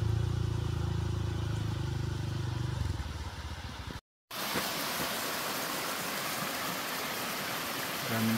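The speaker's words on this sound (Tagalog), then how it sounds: "Waterfalls." Rushing water from a mountain waterfall beside a long motorcycle ride on a KRY200 near Mt Ugo, a steady broadband roar; after a brief dropout the flow sounds closer and brighter, with engine rumble underneath early on.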